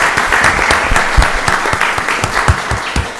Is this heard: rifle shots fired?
no